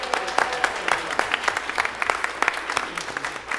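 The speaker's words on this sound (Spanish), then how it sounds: "Un aplauso para mi coro, por favor." A church congregation at a Spanish-language service applauds the choir, giving a few seconds of dense, steady clapping from many hands in an indoor hall.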